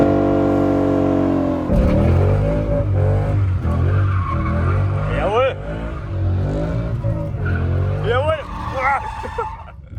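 A Mustang drifting away from a car meet, tires squealing in repeated rising bursts over a steady engine roar, with people talking and cheering nearby throughout.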